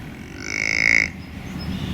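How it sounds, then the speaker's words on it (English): A white-tailed deer buck gives a contact call grunt: one drawn-out nasal tone lasting about half a second, moderately loud above a low, steady background rumble. "That's the sound that a white-tailed buck makes"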